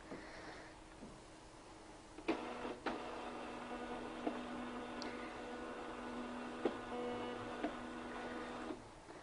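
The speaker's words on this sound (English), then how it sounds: "Print, and we're just going to do one copy on TLP 2844. So Print, it'll come out down there." A Zebra TLP 2844 thermal label printer runs on a slow, light demo setting, giving a steady mechanical hum with sharp clicks and ticks as one label feeds out, faint and close with no talk.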